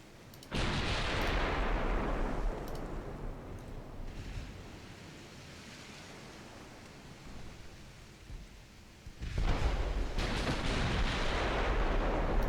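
Naval gunfire from a battleship in a strategy video game: two heavy booming blasts, each followed by a long rumbling roar that slowly fades, loud and without voices.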